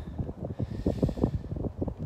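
Cold gusty wind buffets the microphone at a trailhead at the start of the Shenandoah section of the Appalachian Trail, a rough close rumble lasting a couple of seconds with no speech.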